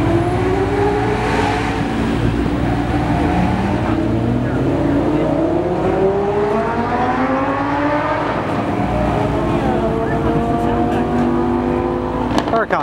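A Lamborghini Huracán engine roars and revs nearby, its pitch climbing and falling as it accelerates past, with a voice faintly underneath.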